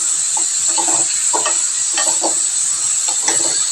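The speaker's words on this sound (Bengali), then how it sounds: "লবণ দিয়ে এটা ভাজা ভাজা করি আগে" Fish sizzles in a hot pan with salt, a steady close hiss of frying broken by soft scraping bursts as it is stirred, with no voices.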